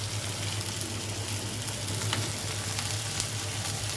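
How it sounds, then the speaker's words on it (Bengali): Dried fish (shutki) fries in a pan with kochur phul (taro flower), giving a steady, dense, close sizzle that holds at an even level throughout, with no talking. "সেই সাথে আমি শুটকিগুলোও দিয়ে দিচ্ছি, শুটকিগুলোও ভেজে নেব।"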